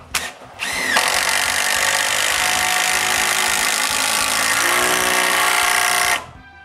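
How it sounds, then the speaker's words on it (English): Power drill boring holes and driving 6-inch screws into a wooden door frame, a loud, close, sustained whine that starts after brief clicks, shifts pitch slightly midway and stops abruptly. "Then I drill 3 more holes and put 3 more 6-inch screws."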